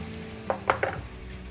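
A carrot and pea curry with garam masala frying in a pan gives three quick, close scraping stir strokes over a faint steady sizzle, with a low hum underneath.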